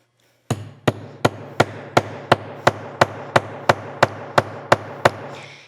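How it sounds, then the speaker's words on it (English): A hammer strikes a grommet setter into faux suede in fifteen sharp, evenly spaced blows, loud and close, with no talking. "you're going to get your hammer and you're going to make a little noise"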